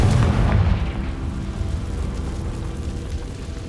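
The Confringo fire spell explodes in Hogwarts Legacy, a loud boom right at the start that trails off into a steady, rumbling decay.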